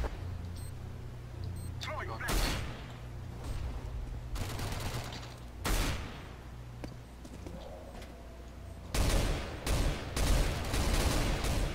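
Gunfire in the Counter-Strike video game: sharp, loud shots crack out singly and in rapid clusters, with players talking in the background between bursts.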